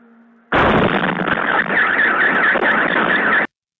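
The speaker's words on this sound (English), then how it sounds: "So some big explosions." Sustained loud roaring blast from a drone strike in war footage in Ukraine, a broad rumbling burst that starts abruptly and holds for about three seconds before cutting off sharply.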